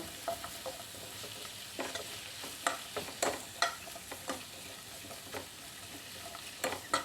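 Chopped vegetables for a paneer pizza topping sauté briefly in a pan on the stove: a steady, close sizzle broken by repeated sharp scrapes and clatters of stirring, with no talking.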